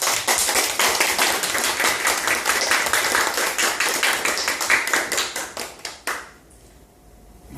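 A small church congregation claps to give glory to God during a worship service, loud close rhythmic hand clapping in a steady beat that slows and stops, leaving near silence.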